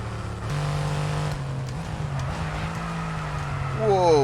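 Supercar engine in the F1 22 racing game blipping down through the gears under braking, a loud run of rev-matched downshifts with a rising rev at the end, no talk.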